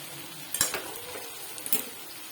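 Tomato masala for zunka stirred in a pan, a few soft spoon scrapes and light clinks over a faint background sizzle, heard close up and alone.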